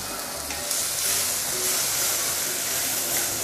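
Curry spare ribs sauté in a hot wok with a steady, loud sizzle and hiss that holds unbroken throughout, with no one speaking.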